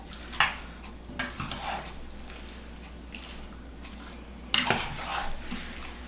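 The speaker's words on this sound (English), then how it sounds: "So just give this a stir. Mix it in with the sausage and the onion nicely." Sausage, beans and onion stirred in a pan: a few distinct scraping, clanking stirs of a utensil against the pan, with a soft sizzle underneath. The sounds come close and fairly loud, with no talking.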